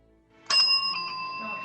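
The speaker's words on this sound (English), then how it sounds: "Yes, that is the sponsor bell." A bell sound effect played for a podcast sponsor break, a single bright ring that sustains and slowly fades while voices talk quietly underneath.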